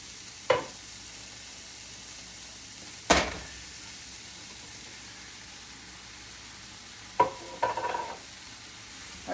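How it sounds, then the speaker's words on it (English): Beef being added to a hot frying pan for a beef and white rice dish, with a steady low sizzle throughout and a few sharp clanks of a spoon or can against the pan as the meat is stirred. "what I'm gonna do is I'm just gonna add the meat into the frying pan."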